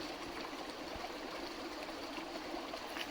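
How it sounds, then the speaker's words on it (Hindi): A village river flows and babbles in a constant, faint rushing trickle, steady throughout with no voices. "ये नदी और ये नदी का कल कल बहता हुआ पानी"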